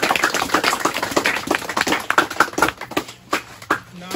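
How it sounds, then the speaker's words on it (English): A group of people gives a round of applause at a sports coaching session in Fiji. It is a dense, fairly close patter of many hands clapping that thins out into scattered claps toward the end. "Would you like, guys, like to give each other a round of applause?"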